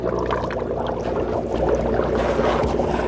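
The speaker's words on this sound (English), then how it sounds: "As you can see, it is bubbling here." Water in a compost tea brew bubbles and gurgles steadily from an aeration pump, a continuous close, churning burble of air rising through liquid.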